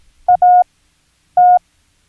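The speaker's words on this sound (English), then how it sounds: "if I were to send an A with a T right at the end" Morse code word "at" in clear electronic beeps: a short dot and a longer dash form the letter A, then a pause, then a single dash for the letter T.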